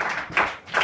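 A church congregation bursts into applause, dense overlapping clapping in two surges that swell, dip briefly, then rise again, loud and close.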